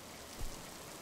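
Steady rain falls in an ancient Japanese setting in the game Jasei no In, a soft, even hiss of downpour heard alone with a faint low thump midway.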